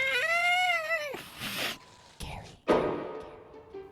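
A cat named Wash lets out a long, close, drawn-out meow in a staged audio drama scene, followed by rustling and clattering handling noises and another short cry.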